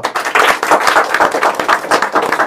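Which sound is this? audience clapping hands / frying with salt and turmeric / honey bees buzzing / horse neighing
audience clapping hands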